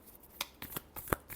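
Tarot cards being shuffled for a Leo horoscope reading, a few short papery riffles and slaps spaced across a brief, fairly quiet moment with no voice.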